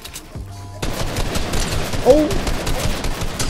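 Bursts of rapid gunfire from a Fortnite box fight, loud and close, rattle on after a short quiet opening, with a player's voice talking over parts of it.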